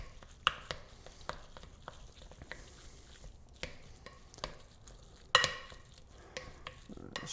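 A vegan filling with cumin and chili powder is stirred together in a bowl or pan, heard as irregular close scrapes and taps of a utensil, with one sharper knock, over a quiet background.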